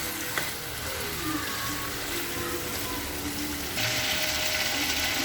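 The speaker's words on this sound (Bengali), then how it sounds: "তারপরে এই আলুটা একটু ভালোভাবে কষিয়ে নেব" Pata alu potatoes sautéing in a pan for a dried-fish curry, a steady close sizzle and crackle with occasional stirring scrapes, growing brighter and louder toward the end.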